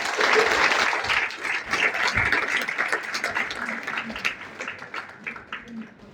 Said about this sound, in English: Clapping should not stop.